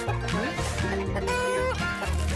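Cartoon chickens on a poultry farm cluck in quick, loud, close bursts, layered with animated-show music and effects.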